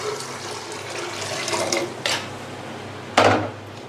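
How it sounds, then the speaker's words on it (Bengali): Water poured into a pot with spiced potatoes before pressure-cooking them for chotpoti, a few short splashing bursts, the last one loudest, at close range. "এখন আমি সেদ্ধ হওয়ার জন্য দিয়ে দিচ্ছি পানি।"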